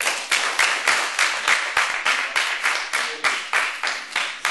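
Rhythmic clapping welcomes a singer in a Radio Nepal studio, with about a dozen evenly spaced, sharp claps close by.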